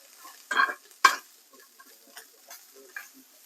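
Onion sizzling lightly in a hot pan while being stirred, with two louder scraping bursts near the start followed by quieter clicks and soft frying crackle, no talking.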